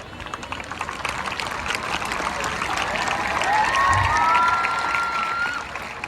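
A crowd at the opening ceremony of a district Khedan Watan Punjab Diyan sports tournament in Bathinda applauds steadily, a dense wash of clapping that swells toward the middle and holds for several seconds, with faint whistles and cheers on top.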